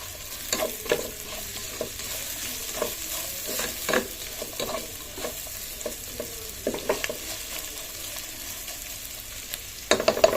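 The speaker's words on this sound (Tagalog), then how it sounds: "Palulutong lang natin, tutuin lang natin konti yung dilis" Dried anchovies (dilis) sizzle and crackle steadily in a pan while being stirred, with repeated scraping strokes of the spatula over the frying, close and moderately loud.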